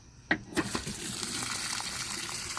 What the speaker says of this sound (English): does it have any issues when you start letting water flow through it?